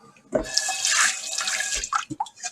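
Running water splashes and gurgles in a kitchen sink, loud and close, with a few clunks and drips as it tails off.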